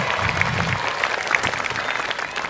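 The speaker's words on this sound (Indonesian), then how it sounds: "Tepuk tangan dulu untuk kita semua" A large university audience in a hall claps together in a dense, steady burst of applause that fills the whole short moment.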